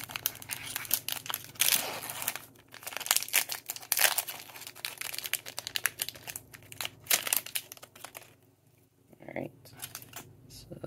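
Panini Score football card packs being opened by hand, with repeated close crinkling and tearing of foil wrappers in bursts, card shuffling between, and a voice talking intermittently over it.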